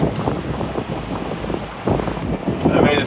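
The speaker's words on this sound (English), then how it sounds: "this piece of water that has current and wind and current, and it just gets a bit gnarly" Strong wind and choppy, current-driven water rush around a moving boat, a steady loud blustery roar with splashing surges, close to the microphone, with faint talk underneath.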